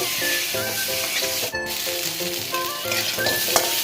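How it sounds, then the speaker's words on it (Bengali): Boiled potatoes sizzle steadily in hot oil with turmeric for an okra and potato curry, a continuous frying hiss with occasional stirring under background music. "সেদ্ধ করে রেখেছিলাম আলুগুলো তেলের মধ্যে দিয়ে দিলাম, একটু ভেজে নেব"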